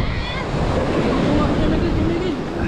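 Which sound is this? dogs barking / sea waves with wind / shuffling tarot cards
sea waves with wind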